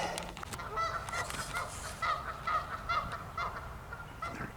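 Pair of geese honking on a creek seen through weeds, repeated nasal honks in an irregular rhythm at moderate distance over steady outdoor background noise.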